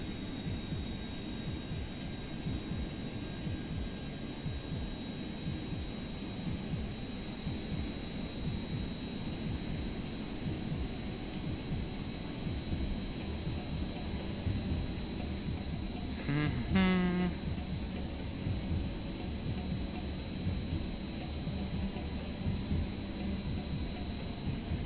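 A jet aircraft engine in Kerbal Space Program throttles up, a steady loud roar with a whining tone that holds throughout, and a brief rising sweep about two-thirds of the way in.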